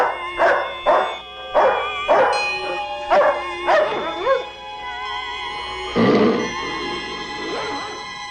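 A dog barks repeatedly in sequel film footage, a regular series of sharp, close barks followed by a louder burst and a few softer yips, with a faint tonal music bed underneath.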